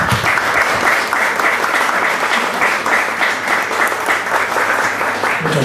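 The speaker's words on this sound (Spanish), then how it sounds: "un aplauso" An audience at a book presentation for a novel applauds, steady dense clapping filling the room at constant loudness throughout.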